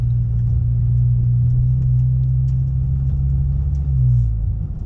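Deep, steady boom from a 2022 Ford Maverick with an MRT Street Race dual tip exhaust held around 2,000 RPM, a loud low drone running continuously with no talk.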